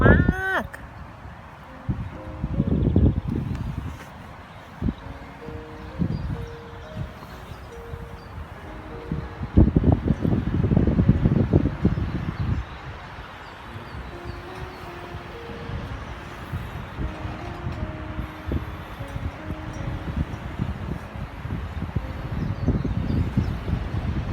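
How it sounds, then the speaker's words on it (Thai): Strong wind blowing through a backyard tulip garden, a rough gusting rumble and microphone buffeting that swells and fades, with someone speaking over it near the start and in brief bits throughout. "เสียงลมแรง"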